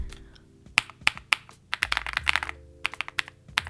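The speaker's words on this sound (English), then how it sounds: "sort of creamy clicky sound. This has just made typing so much more enjoyable." Close-up typing on a mechanical keyboard with Wisteria switches: crisp, creamy clicky keystrokes in bursts, some quick and clustered, others spaced apart, against a quiet background.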